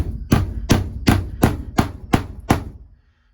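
Seven sharp metallic hammer taps driving a nut in, at a steady, even rhythm, close and fairly loud, then silence.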